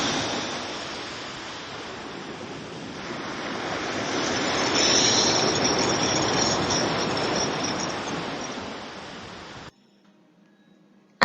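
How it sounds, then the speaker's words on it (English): A continuous roar of waves and surf swells and fades, building to a peak in the middle before cutting off into near silence. "It's the sound of waves."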